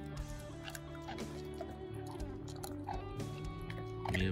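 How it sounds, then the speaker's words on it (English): Wolf dogs chewing on a raw deer skull, a continuous close, moist gnawing with soft crunches throughout and no voices. "Let's get that old skull like it was nothing."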